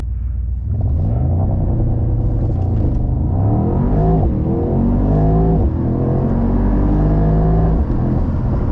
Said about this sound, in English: Let's do another 0 to 60.